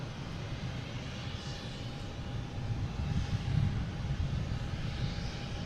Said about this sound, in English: An American coming in here, a Philly special. A319, flight 1776.